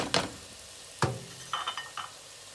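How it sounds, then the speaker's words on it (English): Lentils tipped into a pot of spiced tomatoes for curry lentil soup, making a few soft thuds and brief sizzling, stirring rustles in separate bursts, close and fairly quiet. "Now that the spices and the tomatoes have infused with each other, we're going to add our lentils."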